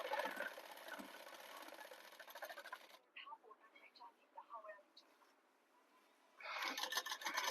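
A sewing machine stitching a princess-cut blouse runs in two short bursts of fast, faint whirring, one before and one after a quieter stretch of soft rustling and handling noises.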